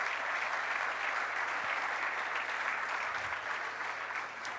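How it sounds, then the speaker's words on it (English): Steady applause from an audience at an awards evening for beach soccer nominees, even and sustained, with no voices over it. "A big round of applause for the nominees tonight."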